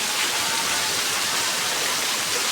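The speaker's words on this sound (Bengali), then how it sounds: "বৃষ্টি হচ্ছে, খুব ভালো লাগছে" Steady rain falling under an overcast monsoon sky, a dense, even hiss of countless drops filling the whole clip with no pauses, loud and close like a heavy downpour on surfaces nearby.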